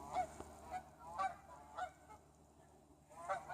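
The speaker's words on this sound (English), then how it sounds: "These geese." Geese honking outdoors on a cold night walk: several faint, scattered honks at a distance over a low background rumble.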